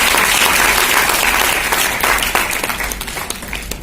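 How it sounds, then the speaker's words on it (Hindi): Loud, dense applause from a seated audience welcoming an honoree at a book release ceremony in Rajasthan, a steady wash of many hands that eases off slightly toward the end. "एक बार पुनः अनंत शर्मा जी का सही दिल से तालियां बजाकर स्वागत करें"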